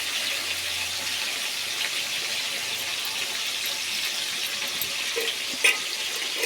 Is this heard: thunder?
no